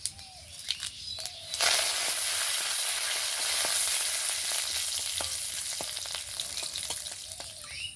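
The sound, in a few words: curry leaves and panch phoron sizzling in hot oil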